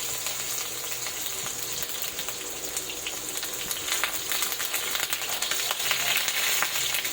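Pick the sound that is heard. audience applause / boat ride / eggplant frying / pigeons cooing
eggplant frying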